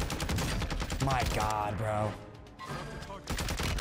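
Hemlock rifle fire in Call of Duty Warzone on Ashika Island comes as rapid, loud repeated shots, briefly broken by someone speaking before the firing resumes.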